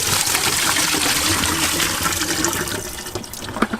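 Waste being tipped out of a caravan toilet cassette, a steady rushing gush of liquid that pours continuously and then tapers into a few splashes and drips near the end.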